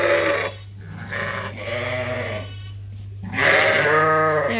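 Sheep and lambs bleat in a barn at Ewetopia Farms as lambs are moved to the next barn, several overlapping loud, wavering calls close by with a short pause between bursts, over a steady low hum.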